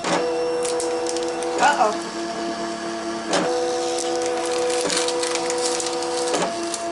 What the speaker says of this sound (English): It's still cutting the fabric.